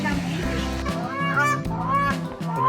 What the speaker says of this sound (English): Flamingos! I find these guys so interesting.